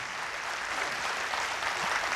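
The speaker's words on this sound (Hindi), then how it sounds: "एक बार जोरदार तालियां इनके सम्मान में बजाइए" An audience at a poetry event in Pune claps steadily, a dense wash of applause at moderate level.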